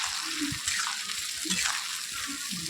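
A spice paste with cashews sautés in a kadai for Kashmiri aloo dum, giving a soft, low sizzle. Faint low murmurs sit underneath, and the sizzle swells and eases with stirring.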